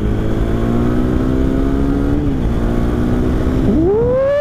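A 2017 KTM Duke 390 motorcycle engine drones steadily close by, then revs up sharply near the end, its pitch climbing as it accelerates.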